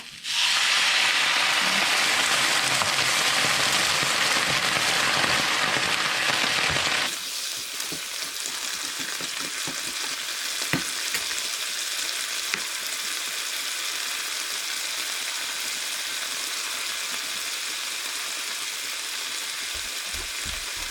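Vegetables and garlic stir-frying in a hot pan: a loud, dense sizzle for the first seven seconds drops sharply once a little water goes in, leaving a quieter steady simmering hiss with occasional clinks.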